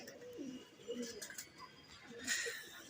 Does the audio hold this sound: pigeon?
yes